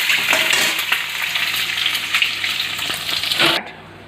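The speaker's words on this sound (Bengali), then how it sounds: "ডিমটা ভাজা হয়ে গেছে, এবার আমি ডিমটা তুলে নিলাম।" An egg fries in a pan with a bright, crackling sizzle that holds steady for several seconds and then cuts off abruptly, leaving near silence.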